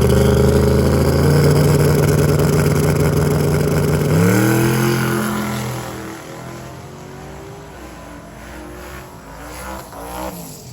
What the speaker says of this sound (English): we got the brand new build, the twin turbo big block Chevy Chevelle